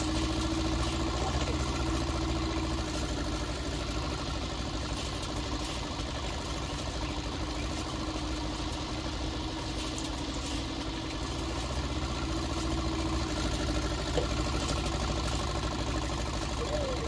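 A tractor engine runs steadily on a hay farm, a continuous low idling drone with mechanical knock, sustained evenly for the whole stretch with faint background voices.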